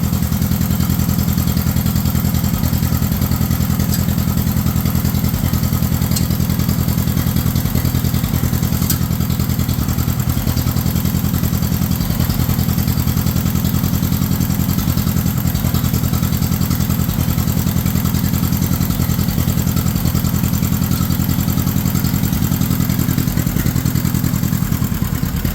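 A John Deere 40/M tractor engine runs steadily and loudly close by, a constant low chugging idle with mechanical clatter throughout, no talking over it.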